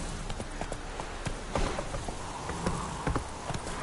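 Hooves of the horse Roach in The Witcher 3, quick irregular clip-clop beats on the ground, fairly close, over a soft ambient background with faint rain-like patter.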